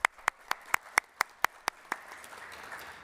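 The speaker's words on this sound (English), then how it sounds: "Give this group a round of applause." Sparse, faint clapping at a nursing school graduation ceremony, with about nine distinct claps in a slow regular rhythm before fading into soft room noise.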